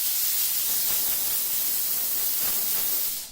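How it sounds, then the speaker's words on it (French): A Vapodil steam cleaner sprays steam onto a sneaker, producing a continuous close, airy hiss that holds steady for about three seconds with no voices. "vous allez pouvoir nettoyer la basket en envoyant la vapeur"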